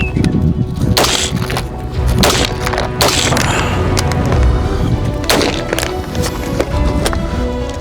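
An AR-15 rifle fitted with a SIG spring kit fires outdoors at a Sunday shoot, producing loud, sharp reports spaced irregularly about a second apart over a noisy background.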